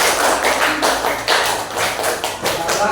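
A classroom full of students claps out a rhythmic counted pattern on cue, a run of quick, closely spaced group claps repeating in bursts, loud and near, with no talk over it.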